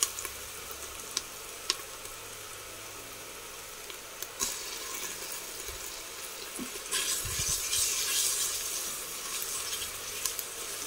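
Onions and tomato paste frying in a pan give a steady low sizzle, with a few clinks and stirring knocks, and the hiss grows louder and brighter toward the end.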